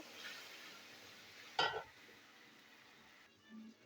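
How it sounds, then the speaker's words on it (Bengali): A paste of tomato and green chillies fries in oil and is stirred, making a faint, soft sizzle. One sharp clank of a utensil against the pan stands out in the middle. "টমেটো মশলা আমি একসাথেই কষিয়ে নেবো"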